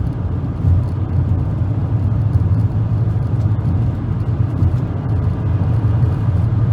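A car with a continuously variable transmission runs in manual shifting mode, giving a steady low engine drone and whir heard from inside the cabin at constant volume, without talk.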